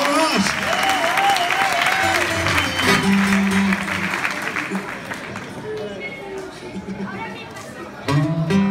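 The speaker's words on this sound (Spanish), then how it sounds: "¡Fuerte el aplauso, por favor!" A live concert audience applauds loudly, with clapping and cheering voices filling the space over about nine seconds and easing slightly before a fresh burst near the end, while a voice calls out over the crowd.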